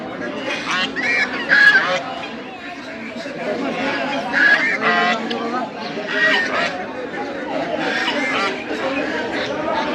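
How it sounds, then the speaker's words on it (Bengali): Domestic geese honk repeatedly amid a crowd of chattering voices at a duck and chicken market, loud and close, with several birds calling over one another. "রাজহাঁস"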